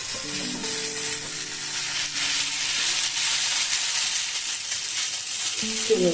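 Chow mein noodles sizzle and fry steadily in a pan, a continuous close hiss with faint stirring, while a soft voice murmurs briefly.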